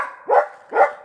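A dog gives two sharp barks about half a second apart, close and loud, with quiet gaps between them and no talk.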